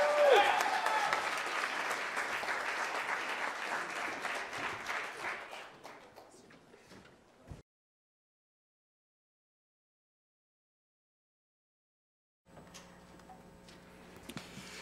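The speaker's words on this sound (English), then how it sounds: "give it up for Isaac Meyer back there hitting the base for us." Audience applause for the bass player at a high school winter jazz concert, steady dense clapping for about six seconds that thins and dies out, then silence before faint room sounds return.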